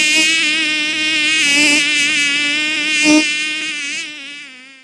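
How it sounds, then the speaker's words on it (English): A high, thin insect whine with steady harmonic buzzing, close and continuous, wavering slightly in pitch. "Buzzing of a mosquito is an acute sound."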